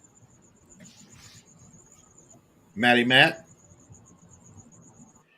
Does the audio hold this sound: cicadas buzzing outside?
yes